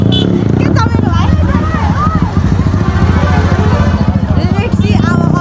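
A motorbike's engine rumbles steadily through a crowded fair in Nepal, a low continuous drone under loud crowd babble and nearby voices talking throughout.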